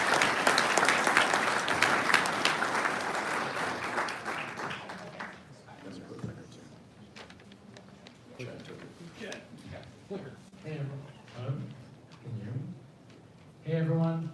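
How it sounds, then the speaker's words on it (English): Audience applause for a guest speaker at a talk, a dense burst of clapping from the crowd that fades after about five seconds into scattered sounds and talking. "Let's give Mike a round of applause."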